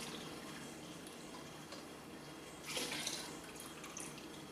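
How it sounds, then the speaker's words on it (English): Liquor poured onto sugar for a home brew, a soft, close trickle of liquid running steadily for a few seconds and swelling briefly near the end, with no voices. "So just pour that in with the sugar, and then just stir it around to dissolve it"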